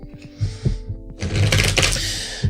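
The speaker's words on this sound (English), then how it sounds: "let me get to shuffling these cards here" A deck of tarot cards being shuffled by hand for a reading, with rapid riffling and flapping bursts over a background music bed.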